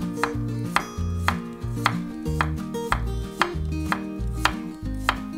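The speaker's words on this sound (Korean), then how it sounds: "이제 당근이요. 요 호박하고 같이 들어가는 거는요 끝에만 잘라버리고 그냥 동그랗게 아주 얇게 해주세요." A knife slices a carrot into very thin rounds on a cutting board, about ten crisp chops in a steady, even rhythm over background music.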